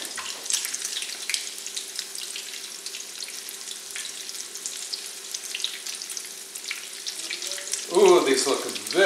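Egg foo yong omelets frying steadily in a pan, a continuous close sizzle and crackle throughout, with a brief louder clatter and scrape near the end.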